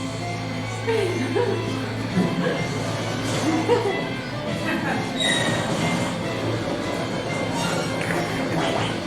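A rumbling train from the Phantom Train battle in the video game Final Fantasy VI, a steady low mechanical roar with metallic squeals and clatter, loud and continuous, with voices faintly underneath.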